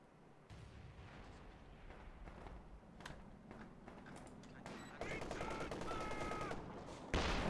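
An MG34 machine gun fires in a World War II strategy game amid scattered gunshots and distant artillery; a rapid burst of automatic fire swells toward the end over a steady battle din.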